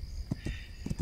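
Horse hooves clip-clop in the game This Land Is My Land, a few quick, close hoof strikes in an uneven walking rhythm over low ambient background.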